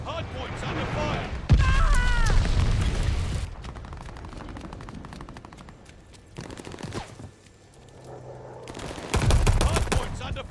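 Gunfire and blasts in Call of Duty Vanguard hardpoint combat come in loud bursts with rapid rattling shots and a heavy impact at the close, with game voices calling out between the volleys.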